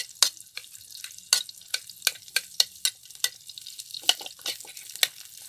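Garlic frying in a pan, with crisp sizzling crackles and stirring scrapes popping in an irregular rhythm, close and clear with no talk.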